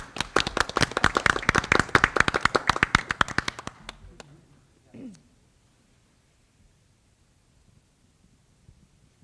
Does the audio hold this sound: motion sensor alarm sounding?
no